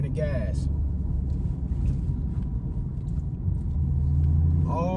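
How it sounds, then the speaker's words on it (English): Low steady rumble of a manual-transmission car's engine pulling in second gear, close and continuous, rising slightly toward the end, with a voice speaking over it at the start and finish. "Clutch in, second gear, off clutch, easy off clutch, back to giving it gas."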